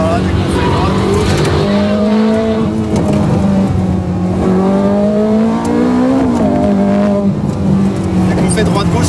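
A Ferrari F430 Scuderia on a race track, its engine a loud, steady drone rising and falling in pitch as it shifts and powers through corners, with a voice talking over it throughout.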